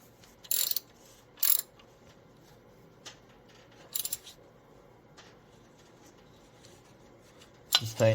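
An idler pulley bolt is tightened on a power steering pump in a Jeep repair kit, heard as quiet, intermittent metallic clicks and ratchet-like taps over a faint background hum, with no speech.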